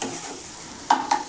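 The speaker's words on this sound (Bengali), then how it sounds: "আমি কি করছি না, ডিমটা দিয়ে ভালোভাবে নাড়াচাড়া করছি।" Egg and pumpkin roast stirred in a hot pan, a soft sizzle broken by two quick scraping strokes near the end.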